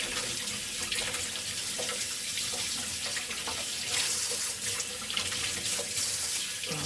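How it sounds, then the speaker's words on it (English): A kitchen tap runs steadily into the sink as hands are washed under it, a constant close rush of water with slight splashing changes throughout. "let me wash my hands real quick"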